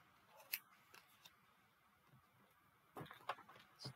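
Scissors snip through two glued paper sheets at a craft table, giving a few sharp, close cuts spread apart, then a quicker cluster of snips toward the end.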